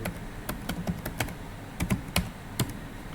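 Keys clatter on a computer keyboard while a visa application form is filled in, an uneven series of close, crisp taps in short bursts over quiet room tone.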